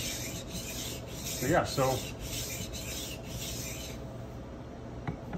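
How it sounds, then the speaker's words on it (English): A 4140 steel knife blade drawn across a 600 grit sharpening stone, giving a few faint rasping strokes midway through an otherwise quiet stretch. "So we'll just go ahead and start putting edge on this thing."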